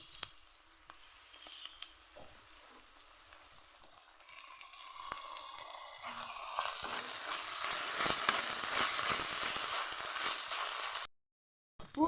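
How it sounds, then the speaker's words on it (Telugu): Onions with two spoons of ginger-garlic paste frying in a pan, a soft sizzle that swells into a louder, rushing hiss before cutting off. "ఉల్లిపాయలు ఇప్పుడు అల్లం వెల్లిపాయ పేస్ట్ 2 స్పూన్లు వేసుకున్నాము"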